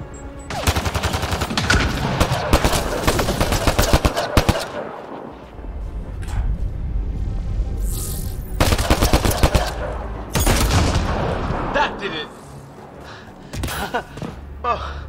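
Gunfire in Mass Effect: Andromeda: long stretches of rapid automatic fire with dense rattling bursts, loud and close, breaking off into pauses and then resuming, mixed with voices and game sounds.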